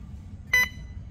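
A single short electronic beep from an IPA 3100 infusion pump analyzer during an infusion test, a clear tone lasting a fraction of a second over a quiet low hum.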